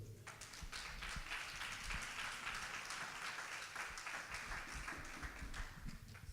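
A church congregation applauds the Lord during a French-language sermon, steady sustained clapping from many hands filling the whole stretch, moderately loud and even, with no pauses.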